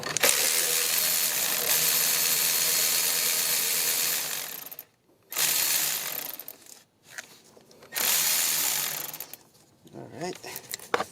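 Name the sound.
cordless power tool loosening engine mount bolt on 2003 Pontiac Vibe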